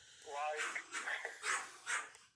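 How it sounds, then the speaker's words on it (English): Dogs bark in a series of several yips and barks, a little distant and somewhat muffled, spaced irregularly over a soft background. "My dogs aren't going to shut up anyways."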